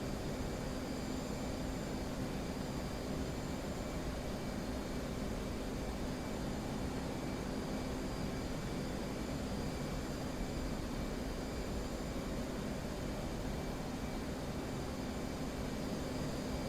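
An F-18 jet flying in the DCS combat flight simulator gives a constant, steady engine roar with a faint high whine throughout, unchanging in level for the whole stretch.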